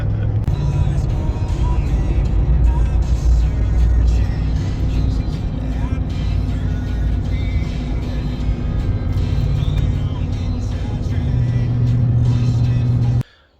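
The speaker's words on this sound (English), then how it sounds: "strap a bunch of vehicles together and drive down the highway" A Chevy S10 pickup tows a string of strapped-together vehicles down the highway, its engine and road roar holding a loud, steady drone with wind rush throughout before cutting off abruptly at the end.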